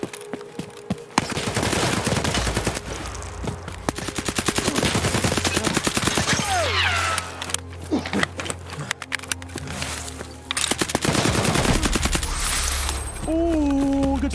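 Gunfire from an Escape from Tarkov firefight, with loud bursts of rapid shots, a flashbang blast and ringing tones, sharp impacts and clattering, continuing with brief pauses over about fourteen seconds.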